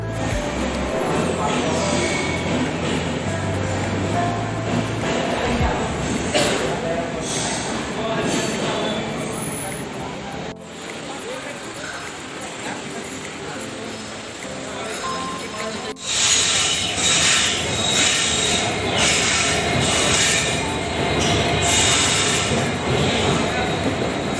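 A train rumbles along steadily with continuous broadband clatter and hiss, heard from inside, with voices murmuring faintly underneath.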